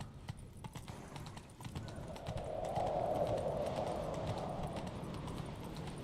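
Hooves clip-clop in a steady galloping rhythm beneath a wash of ambient game noise in The Witcher 3, moderately loud and continuous.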